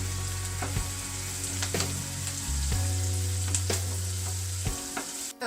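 Onions sizzle in a pan with turmeric, frying steadily while a spoon stirs and scrapes in repeated clinks and knocks, heard close and without talk.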